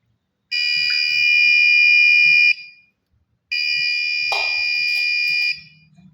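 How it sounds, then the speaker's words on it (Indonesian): Buzzer on an ultrasonic water level sensor gauging a well model sounds twice, two loud steady electronic tones of about two seconds each separated by a short gap, with a faint clatter during the second. "maka buzzer akan berbunyi 2 kali"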